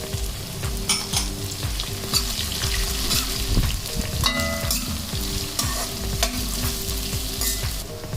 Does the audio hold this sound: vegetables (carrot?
yes